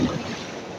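Ocean waves washing in at a shoreline fishing spot, a faint, steady rush of surf mixed with wind noise buffeting the microphone.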